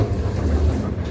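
A passenger train pulls out of Guangzhou station on a clear day, a steady low rumble of rolling carriages filling the whole short stretch with even loudness, heard from inside the train.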